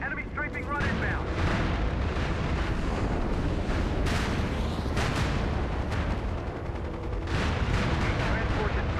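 A video game enemy strafing run brings heavy, sustained gunfire and booming explosions that roar continuously and loudly, with a voice talking over the barrage.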